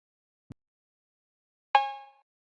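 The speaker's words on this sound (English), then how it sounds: "Then this cowbell." A single cowbell hit from an FL Studio drum kit in a trap-style beat rings out bright and metallic with a short decaying tail, preceded by a faint low thump and otherwise isolated.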